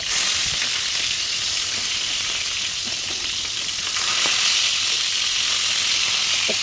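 A loud, steady sizzle of spices (chilli, ginger, onion, garlic) frying in hot oil fills the whole stretch with constant crackling hiss and no voices.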